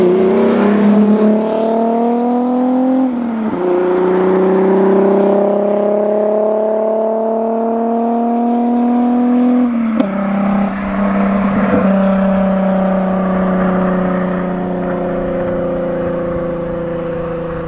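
A car with a 12-valve VR6 engine revs through its exhaust at night, a loud, close, sustained engine drone whose pitch climbs and dips with a few sharp throttle changes over nearly eighteen seconds, with no voices.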